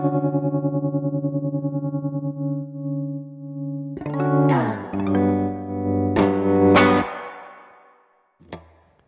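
Guitar through a Meris Mercury X or Strymon Bigsky MX reverb pedal with tremolo, a held chord pulsing rhythmically, then new notes and strums blooming into a wide ambient wash that fades out, no voice.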